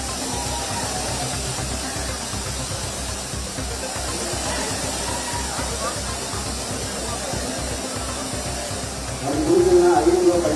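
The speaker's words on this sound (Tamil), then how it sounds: "சீசன் தொடங்கியுள்ள நிலையில் குற்றால அருவிகளில் தண்ணீர் ஆர்ப்பரித்து கொட்டுகிறது." Water roaring down the Courtallam falls in Tamil Nadu at the start of the season, a steady broadband rush that swells louder near the end, with a faint murmur of crowd voices.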